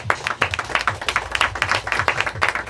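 Scattered, uneven clapping from a small audience at a beatbox battle (Boost Gunma tournament, best-four match), as onlookers vote by applause; sharp individual claps pile up at moderate loudness with no talking over them.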